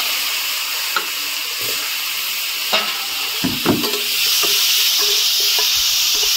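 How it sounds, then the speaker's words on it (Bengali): Raw banana pieces fry in oil left from frying fish, giving a continuous loud hiss with sharp spits and pops, and the sizzle swells into a denser roar near the end. "আর মাছ ভাজার তেলের মধ্যে আমি কলাগুলো একটু হালকা করে ভেজে নেব।"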